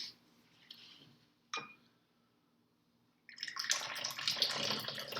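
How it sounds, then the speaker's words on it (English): Hot water for pu-erh tea is poured from a height in a steady, splashing stream that begins after a few soft clinks and fills the last couple of seconds up close. "So again, the high pour, trying to cool it down."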